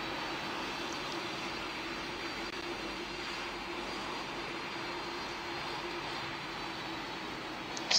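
Steady broadband roar of the Antonov An-225's six jet engines in the flight game PTFS, a continuous loud drone with no talk over it.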